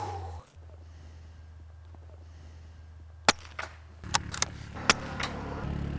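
Biathlon rifle shots fired at a target during cross-country skiing practice: several sharp, separate cracks over a low steady background hum, fairly faint and spaced irregularly.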